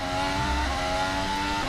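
Formula 1 car at the 2019 Austrian Grand Prix locking a wheel under heavy braking, a loud steady engine drone with a sustained tonal squeal over it, close and continuous with no talk.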